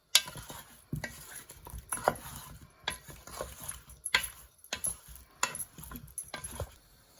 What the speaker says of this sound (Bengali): আলুটাকে এখন ভেজে নিব, বেশি ভাজবো না, একটু হালকা করে ভাজবো।